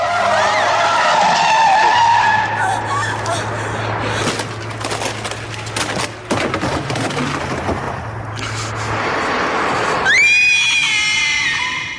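Tires skid loudly in an action-film chase as a car nearly collides with a truck, with screeching, crashing clatter and shouting voices over music, ending in a sharp rising squeal.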